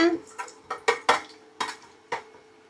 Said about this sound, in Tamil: இப்போ இதை நல்லா அப்படியே கிண்டி விட்டுக்கோங்க.